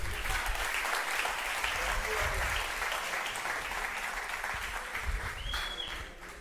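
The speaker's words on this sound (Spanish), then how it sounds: "Denle un aplauso al Señor." Church congregation applauding steadily throughout, a dense wash of clapping that fades slightly toward the end, with faint voices mixed underneath.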